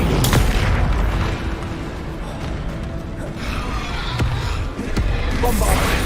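Bombarda spell explosions in the Hogwarts Legacy video game, several booming blasts and thuds scattered over a dense background of game noise, with a voice talking over them.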